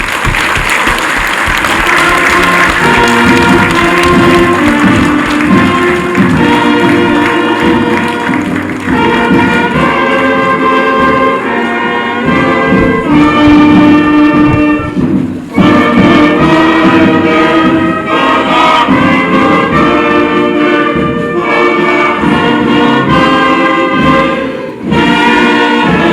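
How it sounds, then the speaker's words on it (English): An audience at a political address applauds loudly and continuously, the clapping mixed with a bright, tonal musical backing throughout. "Can we give him a resounding applause?"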